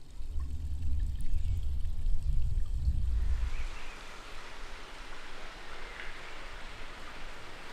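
Water runs in a garden fountain at Schwetzingen Palace in Germany, built to keep drinks cold: a steady splashing rush, heavier and lower at first, then a thinner, hissing flow.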